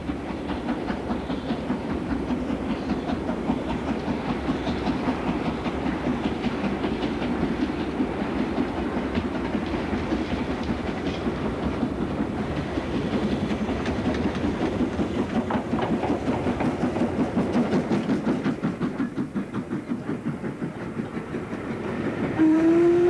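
An LMS steam locomotive hauls a train along the North Wales coast, its steady rumble and rhythmic clickety-clack running continuously and fairly loud, with a brief whistle near the end.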